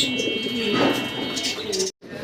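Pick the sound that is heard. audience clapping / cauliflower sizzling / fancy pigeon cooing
fancy pigeon cooing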